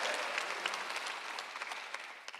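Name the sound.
congregation applause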